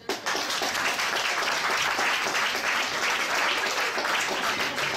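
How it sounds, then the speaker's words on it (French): A comedy show audience breaks into loud, sustained applause, a dense steady wash of clapping that fills the room from start to finish with no one speaking over it. "Applaudissements!"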